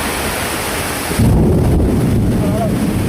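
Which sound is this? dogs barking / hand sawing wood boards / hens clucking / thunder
thunder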